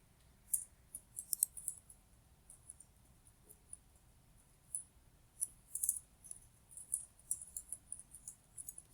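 Computer mouse clicking at a desk, with irregular sharp clicks in bursts and singles, some quick doubles, over a quiet low hum, no talking.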